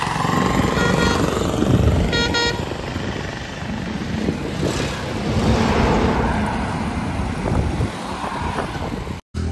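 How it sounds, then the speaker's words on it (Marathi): A car rolls up to a village temple square beside a Bajrangbali shrine during a wedding band procession, its engine rumbling under the busy outdoor noise of the crowd, with a couple of short horn-like tones early on. "इथं पोचली आता गाडी पारावर।"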